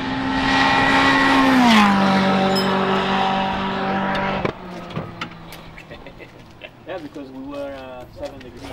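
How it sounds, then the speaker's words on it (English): A Ferrari 488 GT3 race car engine drones loudly at high revs on track, its pitch dropping then cutting out, followed by quieter mechanical noise and another engine revving up. "We're in a Ferrari 488 GT3 car."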